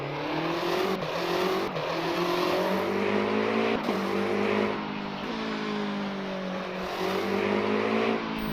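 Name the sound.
race car hybrid engine firing up, video game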